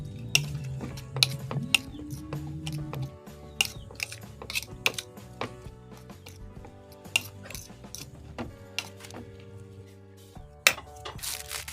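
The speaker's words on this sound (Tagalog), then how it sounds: "Haluin na lang maigi guys para kumapit yung mga nilagay nating pangpalasa." A banana heart (puso ng saging) burger patty mixture is stirred in a bowl, with repeated sharp clinks and scrapes of a utensil against the dish over a low steady hum, close and fairly loud, with no talking.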